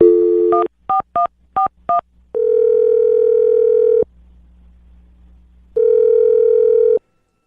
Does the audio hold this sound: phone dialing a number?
yes